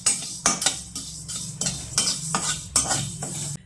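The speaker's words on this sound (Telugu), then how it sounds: "తర్వాత మినప్పప్పు వేసేస్తున్నానండి" Urad dal goes into a pan with roasting sesame seeds and is stirred dry with a metal spoon, giving a series of about nine sharp scraping clatters in an irregular rhythm, close and fairly loud.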